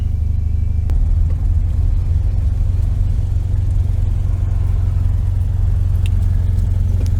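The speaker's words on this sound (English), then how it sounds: "The idle does not want to settle down. It'll vibrate and go back down eventually." A 1973 VW Super Beetle engine fitted with a Dellorto carburetor idles unevenly, a loud, steady low rumble with slight surging that never quite settles, heard up close with no talking.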